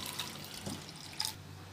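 A glass of water is poured quietly onto sprouted mung beans and green chillies in a pressure cooker, a brief soft splash and trickle with a few drips.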